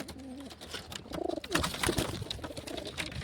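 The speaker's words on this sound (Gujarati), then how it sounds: "આપણા બીજા બધા જ કબૂતર જોઈ શકો છો અહીંયા છત ઉપર" Several pigeons coo from a loft roof in a village setting, their soft, rolling calls repeating close by in overlapping phrases.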